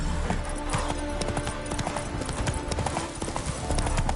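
Roach the horse's hooves clip-clop steadily and close in The Witcher 3, a busy rhythmic clatter over a dense game soundscape with music and ambience beneath.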